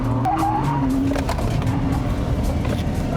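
A BMW M140i drifts at Santa Pod, its tyres squealing and skidding loudly under a hard-revving engine, close by and continuous, with no talk over it.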